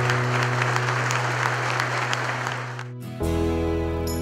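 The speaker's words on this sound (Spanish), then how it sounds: "Solicito un fuerte aplauso al policía caído en cumplimiento de su deber, Florencio Pavana Zamora." Applause rises for a fallen police officer at a memorial ceremony in Ecatepec, a steady crowd clapping that fades out near the end, followed by a sustained tone.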